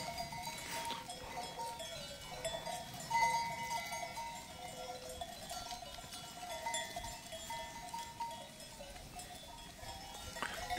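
Flock of sheep with bells moving slowly across a pine-covered highland pasture, a steady jangle of small bells and rustling hooves at moderate distance, with no talk.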